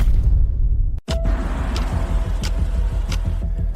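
A car pulls up close by, its engine a steady low rumble under road noise with a brief whoosh of movement; no one speaks.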